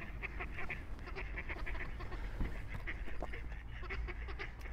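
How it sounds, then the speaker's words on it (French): Ducks quack repeatedly in a busy, overlapping chorus, fairly close, against a low steady rumble. "Je vais voir si je suis capable de parler pendant que les canards s'expriment."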